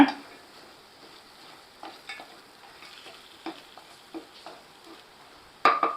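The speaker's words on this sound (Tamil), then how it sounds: "இதை நல்லா கலந்து விட்டுக்கோங்க" Mutton pieces are stirred with masala in a frying pan, giving soft scraping strokes over a faint sizzle, with a sharper clatter of the spoon near the end.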